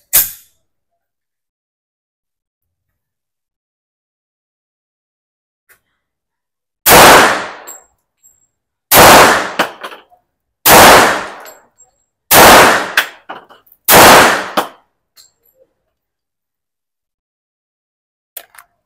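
A Springfield Armory XD-45 Tactical pistol fires five loud, sharp shots spaced about two seconds apart after a stretch of near silence, each crack ringing briefly with a metallic tail.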